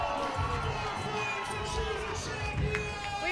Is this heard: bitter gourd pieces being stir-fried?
no